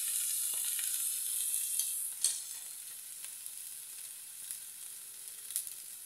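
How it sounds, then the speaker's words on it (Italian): Seasoned beef fillet sizzles steadily on a grill pan, a continuous bright frying hiss with occasional louder pops and crackles, close and alone without talk. "Sentite come frigge, sentite l'aroma."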